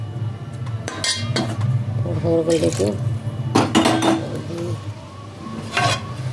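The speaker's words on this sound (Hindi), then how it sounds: "ये थोड़े से बर्तन है मेरे को धोने हैं अभी चाय के" Tea dishes being washed by hand: steel utensils clink and clatter against each other with splashing running water, close by, in irregular bursts while someone speaks briefly.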